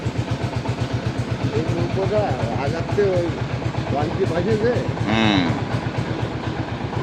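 A trawler's engine chugs in a steady, rapid throb as the boat sets off in the Sundarbans toward Dublar Char. People talk over it throughout.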